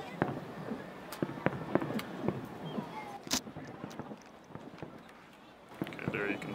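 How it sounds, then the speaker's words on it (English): Fireworks burst repeatedly outdoors at a distance, giving irregular sharp pops and crackles over a rumbling background, with a person talking through parts of it. "there's a lot of fireworks exploding in the same place"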